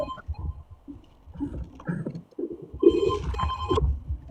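A telephone rings during a live call-in religious discussion, its tone rising in bursts near the end and overlapping a low murmur of talk and background noise.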